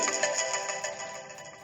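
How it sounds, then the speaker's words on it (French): A mobile phone ringtone chimes in a rapid repeating electronic pattern, clear and fairly loud throughout, with no talk over it, during a lecture. "Il y a un téléphone là. C'est le vôtre peut-être."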